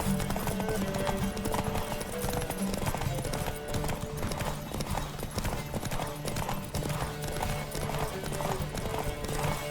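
A horse gallops flat out in a race in The Witcher 3, its hoofbeats a fast, steady, close drumming that runs the whole way, with faint game sounds beneath.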